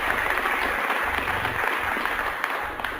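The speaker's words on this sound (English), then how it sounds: "People just don't applaud like that with their hands and their heads." An audience claps for a motivational speaker in a hall, a loud, dense burst of applause that holds steady and then begins to fade slightly, with no voices over it.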